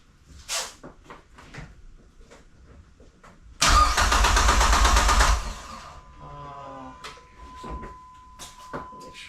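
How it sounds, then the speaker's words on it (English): A Dodge SRT-4 turbo engine cranks and fires up, running loudly for about two seconds before cutting out, followed by quieter clicks and a faint steady tone. "Let's see if this thing will fire up, because this gas is pretty gross."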